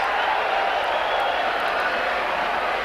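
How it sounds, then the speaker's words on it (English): A rugby league crowd at a Wigan versus Widnes match roars in a dense, sustained wall of cheering and shouting, loud and steady throughout with no let-up. "the crowd going mad there"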